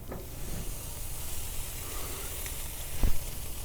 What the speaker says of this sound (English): Let's put the steak, salt, pepper, on the grill